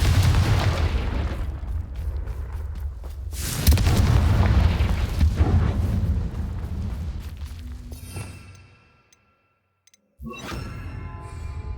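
A Confringo fire spell blast in the video game Hogwarts Legacy, a heavy booming roar that swells and rumbles, cuts to brief silence, then returns with a sharp crackling burst.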